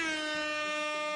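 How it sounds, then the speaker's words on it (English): An air horn gives one sustained, loud, blaring blast with a steady pitch and bright harmonics at a competitive event, with no voices over it. "We haven't even used the air horn today."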